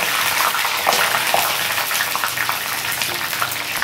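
Two sprigs of curry leaves frying in hot oil, stirred with a ladle while a cornflakes snack mixture is made, giving a close, steady crackling sizzle with scattered sharp spits.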